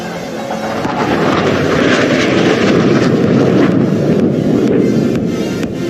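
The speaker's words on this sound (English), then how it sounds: "Coming in from your right is an 5 aircraft in an arrowhead formation making the alphabet A." Military aircraft at the Aero India air show in Bengaluru fly past with a loud, sustained jet roar that stays heavy and steady throughout, mixed with wind buffeting on the microphone and no talk.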